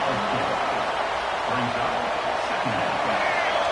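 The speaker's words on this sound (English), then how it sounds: "this crowd is fired up. Listen to this noise here." A loud, steady roar of a college football stadium crowd cheering, filling the whole clip with dense broadband noise and faint voices rising beneath it.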